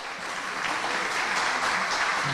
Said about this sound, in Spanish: Vamos a brindar un muy fuerte aplauso